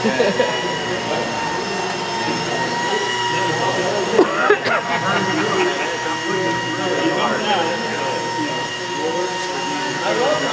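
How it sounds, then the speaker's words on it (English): A detailing pad washer runs with a continuous loud whirring drone at a detailer training event. Clattering bursts rise briefly over the hum partway through, and faint voices are in the background. "if you want to see how the pad washer works"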